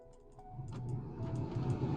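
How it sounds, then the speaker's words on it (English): A car engine starts with a brief whirring crank and then settles into a steady low idle, while a fan hum builds underneath, close and moderately loud. "Okay, let's start the car"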